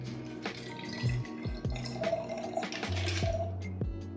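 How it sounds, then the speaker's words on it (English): A mixed non-alcoholic mocktail is poured into a glass, giving a steady liquid trickle with a few drips and glugs, close and moderately loud over a quiet kitchen background. "Now I'm gonna pour this into here."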